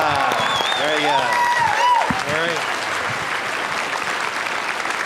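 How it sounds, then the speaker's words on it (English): Audience applause in a classroom-style setting, steady clapping filling the whole clip, with a voice speaking over it near the start. "Give them a big round of applause."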